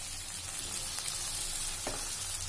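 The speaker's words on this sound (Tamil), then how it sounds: "நம்ம ஆல்ரெடி எடுத்து வச்சுருக்கக்கூடிய மணத்தக்காளி காய் போட்டு நல்லா வதக்கி விட்டுறலாம்." Black nightshade berries and garlic sauté in a pan with a steady, close sizzle and a couple of soft stirring scrapes; no voices.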